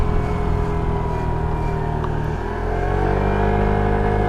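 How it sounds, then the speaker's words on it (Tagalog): A big bike motorcycle approaches from behind on a road in Japan, its engine drone blending with the rider's own vehicle noise and shifting in pitch midway, steady and fairly loud throughout. "May motor sa likod ah."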